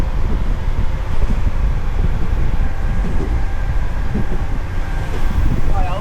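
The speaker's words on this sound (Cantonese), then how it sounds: "有飆，不過好大風啊" Strong wind buffeting the microphone on a fast-moving boat in Kochi, Japan, a loud, constant low roar and rumble lasting the whole stretch with no clear breaks.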